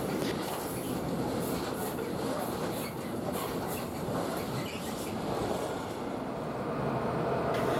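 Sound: freight train hauled by class 185 electric locomotive

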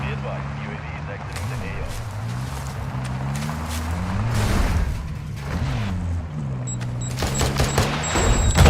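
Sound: gunfire in Call of Duty Warzone 2.0 video game

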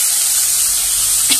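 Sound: fried pointed gourd and potatoes added to pan with rice and spices

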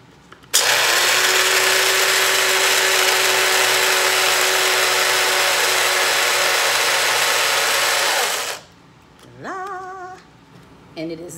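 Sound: grinder grinding coffee beans for French press

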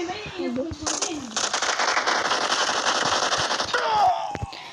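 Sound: gunshots in the video game PUBG

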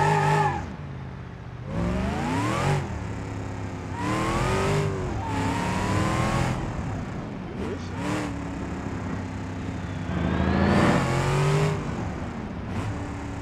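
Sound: car engine revving in BeamNG.drive video game

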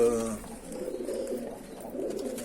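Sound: angry male bango pigeon cooing in coop

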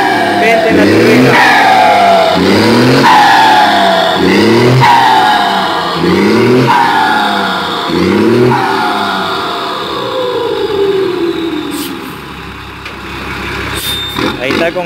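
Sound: Volkswagen with Garrett turbo revving, semi-direct exhaust

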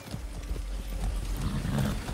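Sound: horse hooves in video game Far Cry 6

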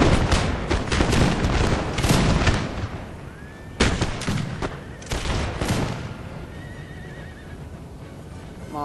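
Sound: musket gunfire from a building, video game Napoleon Total War

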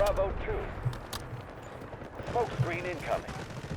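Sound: gunfire in the video game Delta Force

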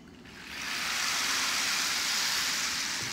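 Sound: rain stick making raindrop sounds

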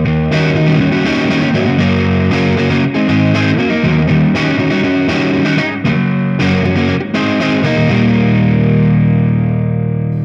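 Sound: distorted electric guitar through PRS HDRX20 amplifier, bass cranked

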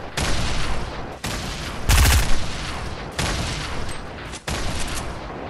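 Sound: gunfire in the video game Fortnite

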